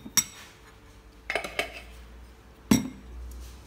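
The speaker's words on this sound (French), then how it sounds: "Je rajoute la cannelle. Je mélange le tout." A spoon clinks against a bowl while cinnamon is stirred into a sugar mixture for cinnamon rolls. Three sharp, close clinks come at separate moments with quiet gaps between and no talking.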